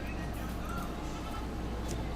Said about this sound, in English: I was making sure it was actually goats and not you doing it.